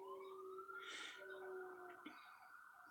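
A siren passing along a nearby street, its wavering tone running steadily throughout, with a dog standing and howling at it in a rising burst near the middle.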